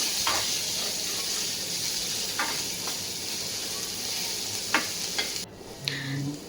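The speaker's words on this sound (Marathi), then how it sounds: "बारीक चिरलेला कांदा आहे तो घालते कांदा आता थोडासा आपल्याला गुलाबीसर रंगावरती परतून घ्यायचा आहे" Finely chopped onion sautés in oil in a pan, giving a steady hiss of sizzling close up with occasional stirring clinks and scrapes; no voices.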